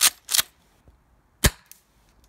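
Tokyo Marui Breacher M870 airsoft shotgun fired outdoors in cold weather, giving three sharp, close popping shots with small mechanical clicks between them and no talking.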